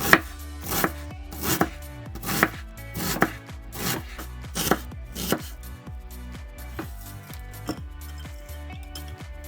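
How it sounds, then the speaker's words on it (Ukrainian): Sharp knife chops strike a cutting board in a steady rhythm as an onion is finely chopped, about a dozen close, crisp hits over a faint background hum. "Цибулю нарізаю дрібними шматочками."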